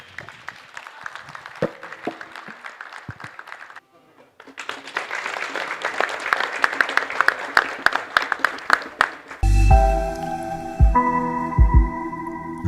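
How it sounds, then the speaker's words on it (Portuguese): A forum audience at a discussion event on insurance and economic activity claps in a dense burst that breaks off briefly and then resumes louder, before a musical jingle cuts in at the end. "Peço palmas para todos nós."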